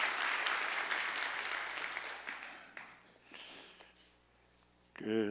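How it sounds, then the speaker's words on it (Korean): A church congregation at a Korean revival meeting applauds to welcome the pastor, with loud sustained clapping that gradually thins and fades, then a brief voice near the end. "우리 목사님 항상 크게 박수로 한번 환영하겠습니다."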